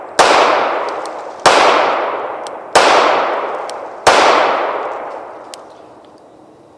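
Four loud, close pistol shots from a Rock Island Armory RIA 5.0E, evenly spaced about a second and a half apart, each sharp crack trailing off into a ringing outdoor decay.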